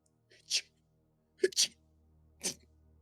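Three sharp sneezes burst out one after another, spaced about a second apart, with quiet pauses between them.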